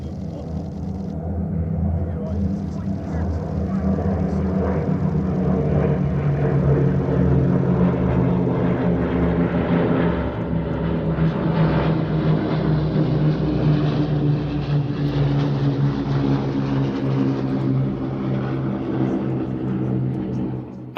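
A display aircraft departs low over an airshow crowd, its propeller engines droning loud and sustained with a rich, throbbing rumble that holds steady throughout, a voice faintly under it.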